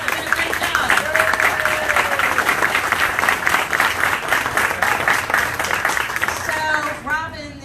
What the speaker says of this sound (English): A big round of applause to Corey.